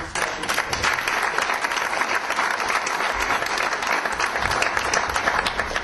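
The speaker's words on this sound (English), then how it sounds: "So I want to applaud all of you." Audience applause at an economic recovery forum in Baltimore, dense sustained clapping from a large room, loud and even throughout with no speech over it.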